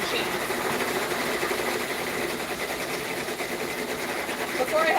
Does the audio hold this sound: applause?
no